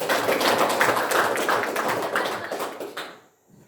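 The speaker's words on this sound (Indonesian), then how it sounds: "Tepuk tangan." Junior high school students in a classroom burst into dense, loud applause that carries steadily for about three seconds, then stops abruptly into quiet.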